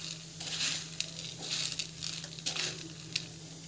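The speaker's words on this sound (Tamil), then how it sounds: "இது வந்து கொಬ್ಬரி வந்து ஆட் பண்ணி இது வந்து நல்லா வதக்கலாம்" Grated coconut sautéing in a hot pan for a simple home recipe, a bright continuous sizzle with irregular stirring scrapes and bursts, with a low steady hum underneath.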